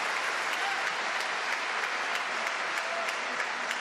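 A crowd at a world table tennis championship match between Ma Long and Anton Kallberg applauds in a sustained, even burst of clapping with faint crowd murmur.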